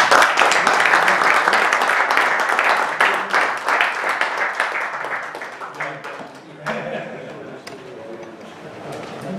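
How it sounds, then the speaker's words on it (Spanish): Audience applause after an economics talk on inclusive business, a dense crowd of clapping hands that starts full and loud and slowly thins and tapers toward the end. "Un aplauso."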